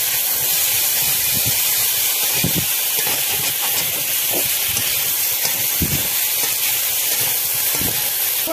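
Tomatoes hitting a hot pan give a loud, dense burst of hissing sizzle and steam that stays steady and close from start to end.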